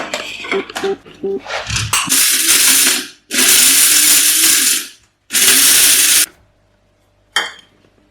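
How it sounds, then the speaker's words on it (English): A coffee blender grinds Nigerian spices in several loud whirring bursts of a few seconds each, separated by short pauses and rattling clicks, with a final brief pulse. "So I'm blending this, and I'm using a coffee blender to blend it."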